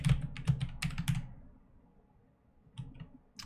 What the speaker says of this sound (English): I was talking and typing at the same time.